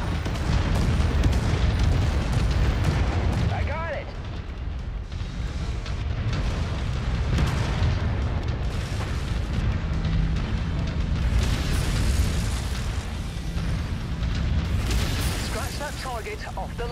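Explosions of destroyed targets in the Mechwarrior 5 video game rumble in heavy, continuous booms and bursts throughout, dense and loud, with game voices layered over the blasts.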